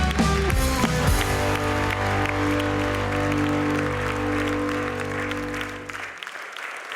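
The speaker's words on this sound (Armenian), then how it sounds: "Եկեք ծափարենք Վաչեին եւ Գարիկին" Loud audience applause at a comedy show, a dense burst of clapping that fills the room, mixed with scattered cheers and some music-like tones, then cutting off abruptly near the end.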